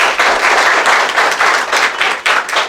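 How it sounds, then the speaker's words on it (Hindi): Students in a classroom clap together, loud, close and sustained, in uneven bursts of applause. "थोड़ा ताली आप लोग बजा दीजिए"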